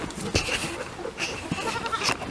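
Goat bleating on a farm with goat fencing, several wavering bleats over a busy outdoor background with other animal noise, moderately distant and fairly faint.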